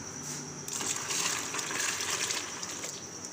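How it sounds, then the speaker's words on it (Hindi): Water splashes and gushes steadily as it is poured into blended yogurt lassi, a brief close liquid pour with no talking. "अब इसमें पानी डालेंगे।"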